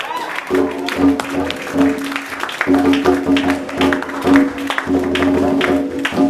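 A church congregation claps and cheers in praise, a dense rhythmic applause with shouts layered over a steady low musical hum, continuing throughout at close range.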